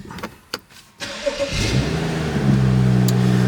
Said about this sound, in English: Let's get the car fired up.